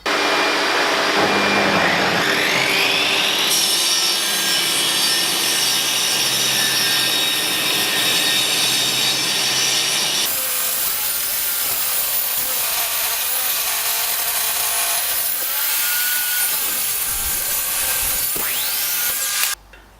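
A band saw cuts across leftover wood, a loud steady whine and rasp that shifts in pitch as the blade works through the stock, then spins down at the end.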